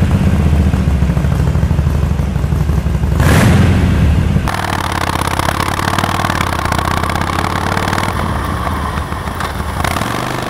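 Engine of a Harley-Davidson Iron motorcycle rumbling close and loud, with a brief swelling rev partway through before it settles back into a steady, throaty idle.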